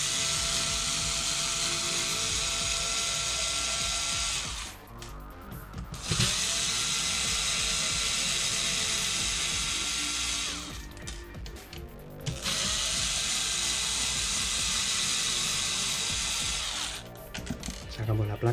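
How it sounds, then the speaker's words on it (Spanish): Small screws being driven out of an Xbox Series S motherboard with a power screwdriver, giving long steady whirring runs separated by short pauses and light handling clicks. "Si queremos ya desmontar por último lo que es la placa, tendríamos que quitar pues estos tornillos"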